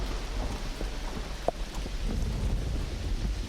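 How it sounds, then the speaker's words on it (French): Heavy rain pours down during a nighttime storm, a dense constant hiss of large drops striking surfaces, with low rumbling beneath and a sharp crack near the middle. "alors que la pluie se met à tomber à grosses gouttes"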